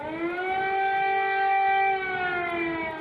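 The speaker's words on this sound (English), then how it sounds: "And as night falls and sirens sound" Air raid siren wailing loudly and steadily at night in Ukraine during the Russian invasion, a single sustained rising-and-holding tone with no other sounds.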